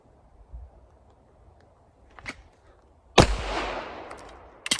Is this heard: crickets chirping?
no